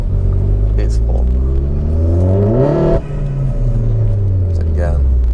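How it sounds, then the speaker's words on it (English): A Vauxhall VXR car accelerates hard with wheel spin, its engine note climbing in loud rising harmonics, briefly dropping, then surging again close by. "So I get a lot of wheel spin, big time."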